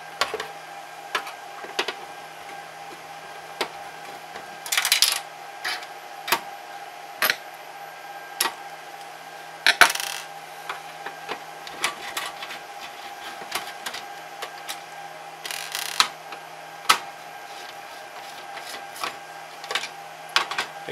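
Screws are being removed from a Sega Master System console, giving a string of small dry clicks and ticks at close range with scattered louder snaps and no talking.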